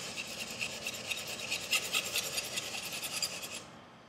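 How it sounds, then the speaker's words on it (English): A cheap kitchen knife blade is rubbed on 320-grit sandpaper for reprofiling, making a close, rasping scrape in quick back-and-forth strokes that stops near the end, with no talk. "lower grit sandpaper, or rather coarser sandpaper, to do this reprofiling work"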